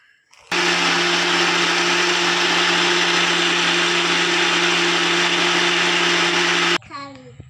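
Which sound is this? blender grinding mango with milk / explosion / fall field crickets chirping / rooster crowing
blender grinding mango with milk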